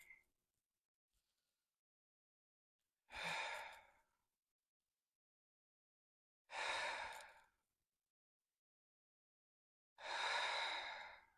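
Three slow breaths are drawn during a gentle exercise for calming the nervous system, each a distinct close airy sigh of a few seconds, separated by long quiet pauses.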